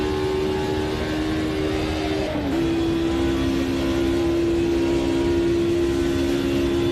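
A Mercedes race car engine in Automobilista 2 on the Nordschleife drones loudly at a steady high pitch, dipping briefly with a gear change or lift before climbing and holding again, continuous with no talk.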